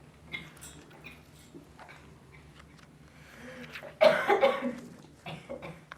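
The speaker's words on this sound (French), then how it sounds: "Tu peux tousser." An audience member coughs at a poetry reading: one loud, close cough burst followed by a few softer trailing coughs after a quiet stretch of room sound.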